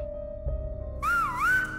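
A person whistles melodic, gliding tones as a whistled language, first a steady held pitch, then a rising, wavering phrase that swoops up and down, clear and close with no talking.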